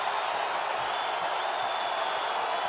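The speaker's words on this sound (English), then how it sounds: "Crowd goes wild off of that sequence." Dense, steady crowd roar fills an arena at an NCAA men's tournament basketball game between Alabama and Maryland, a continuous wall of cheering and applause with a faint whistle-like tone held over it throughout.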